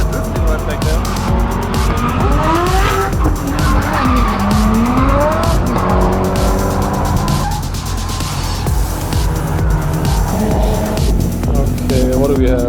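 Cars drift at the Nürburgring, their tires squealing and screeching almost without a break for about thirteen seconds, with loud engine roar rising and falling underneath.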